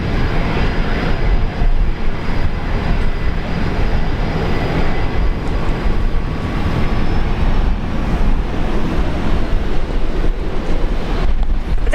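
A Velocity airliner departs Brisbane Airport in heavy rain. A steady, broad roar of jet engine and rain noise with wind buffeting on the microphone continues without a break, and no one speaks.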